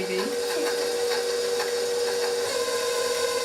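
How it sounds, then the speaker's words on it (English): An electric mixer runs steadily at setting 4 while making a Toll House chocolate chip cookie pie batter, giving a continuous whirring hum with a slight rise in pitch early on. "Now we're going to turn the mixer on."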